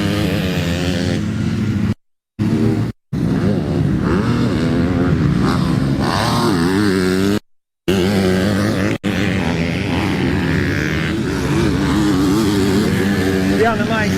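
A 250cc Yamaha motocross motorcycle races down the start straight at a junior motocross meeting, its engine loud and revving continuously, under steady commentary talk with brief dropouts.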